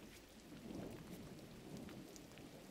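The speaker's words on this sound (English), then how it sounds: "It is now raining" Rain and thunder in the GRIS video game: a soft, steady rain hiss with low rolling rumbles swelling and fading, faint and without any talk.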